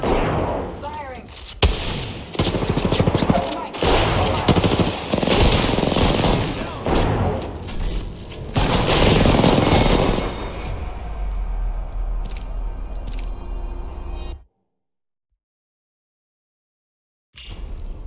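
Video game firefight with dense bursts of automatic gunfire and rapid single shots, loud and close, packed for most of the stretch before easing, then cutting to silence near the end; a voice talks over it.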